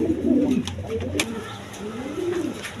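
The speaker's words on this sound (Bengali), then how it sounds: "এখানে এক পেয়ার বন্ডিনেট কবুতর আছে, দেখেন একদম কোয়ালিটি সম্পন্ন কবুতর" A bonded pair of pigeons, a quality laying pair, coo softly at close range in repeated low rolling phrases, with a brief sharp click partway through.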